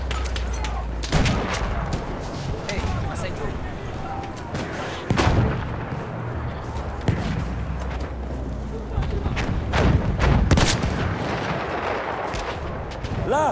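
Enemy machine gun fire in Battlefield 1 on Monte Grappa: loud, close gunshots and artillery-like blasts crack repeatedly over a heavy rumbling battle backdrop, with voices shouting at intervals.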